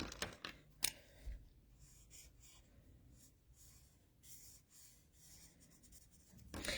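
Quiet scratchy strokes of a marker coloring on paper, short repeated rubs with small pauses, close up and soft.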